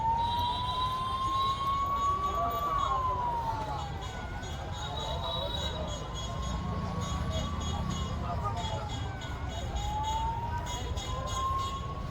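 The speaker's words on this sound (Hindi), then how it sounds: "पूरे पटना में ब्लैक आउट और सायरन बज रहा है" An air raid siren wails in long, slow rising and falling tones during a blackout in Patna, heard from a distance over steady background noise and faint murmuring voices.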